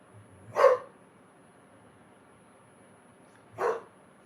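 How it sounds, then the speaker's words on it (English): A dog indoors gives two single barks about three seconds apart, moderately close, with quiet room tone between them. "I'm gonna have to go let him out or he's gonna bark and drive me crazy"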